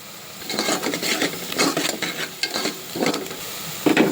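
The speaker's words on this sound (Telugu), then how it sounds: "ఈ విధంగా బ్రౌన్ గోల్డ్ కలర్ వచ్చేంత వరకు వేగనియాలి" Onions sizzle and frying in a pan for a mutton curry, stirred and scraped in repeated rasping strokes, close and moderately loud with no talk.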